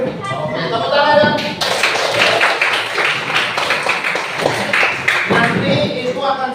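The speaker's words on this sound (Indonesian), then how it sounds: "Oke, tepuk tangan ya." A group claps their hands in a burst of applause lasting several seconds, fairly close, with a voice speaking before it starts.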